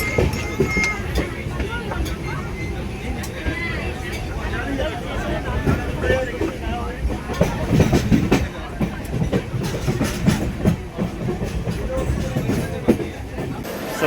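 13054 Radhikapur Kulik Express pulling into Bandel Junction, rolling clatter and wheel noise on the rails under steady platform chatter and nearby talk, louder rumbling midway through.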